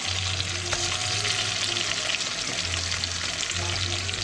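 Sliced onion frying in a pan over a low hum, a steady soft sizzle with a few faint utensil taps, close and without talk.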